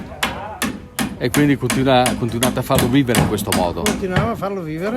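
A metal milking bucket is repeatedly banged to raise a din during a traditional March parade in Recoaro, and the sharp clanging hits come at irregular intervals under close conversation in Italian.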